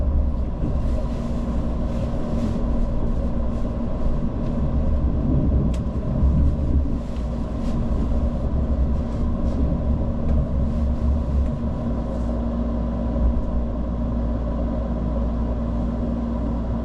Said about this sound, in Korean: 열차는 영동역을 정시보다 2분 늦게 출발합니다